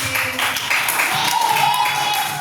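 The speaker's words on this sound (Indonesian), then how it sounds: "Oke, tepuk tangan sekali lagi." A classroom audience of students applauds continuously, a dense broadband patter of many hands, with faint voices mixed underneath.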